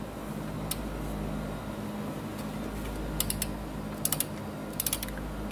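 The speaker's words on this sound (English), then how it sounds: "I've got the torque wrench here set to 36 foot-pounds" A torque wrench set to 36 foot-pounds turns an 18mm socket to tighten an outer tie rod end on a 2002 Saturn SL1, giving a few short clusters of ratchet clicks over a steady low background hum.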